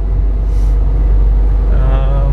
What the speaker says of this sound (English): truck seems to be running fine